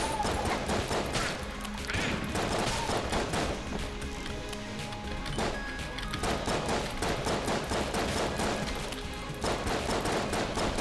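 Rapid Tommy gun fire in Enter the Gungeon, dense overlapping bursts of shots layered with game music and impacts, loud and continuous throughout with no voices.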